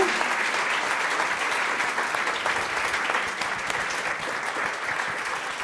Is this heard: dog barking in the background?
no